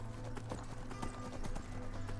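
Horse hooves clip-clop in Skyrim, a steady rhythmic trot of sharp hoofbeats close by over a low droning background, with no voices.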